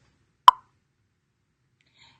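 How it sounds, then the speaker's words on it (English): A single short, crisp pop of a notification sound for incoming live comments, heard once, fairly loud, followed by near silence with a faint trace of another tiny pop. "the popping noise in the background is people commenting"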